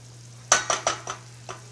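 A sugary sauce bubbling in a pan for Lao chicken feet salad, with five quick scraping strokes of a utensil against the pan over a faint low hum.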